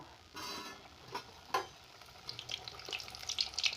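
Three-colour luchi puffing in hot oil, one at a time, with a soft bubbling sizzle, a few splashes and tiny crackling pops near the end, fairly quiet and without speech.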